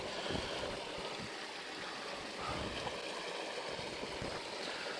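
Creek water flowing along a walking trail in the Watagan Mountains toward Dora Creek, a continuous broadband rushing and gurgling wash, steady and fairly close, with no voices over it.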